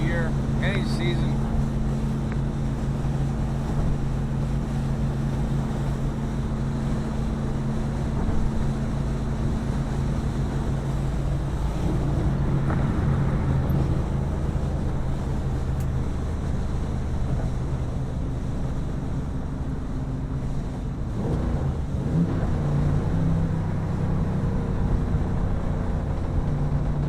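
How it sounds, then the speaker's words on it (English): A 1964 Chevy cruising at highway speed with Porter mufflers, similar to a glass pack, gives a steady low exhaust drone throughout, mixed with road and wind rumble on a windy bridge. "the mic's picking up the mufflers, but they're porters. Similar to a glass pack"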